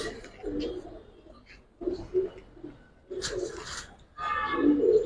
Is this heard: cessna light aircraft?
no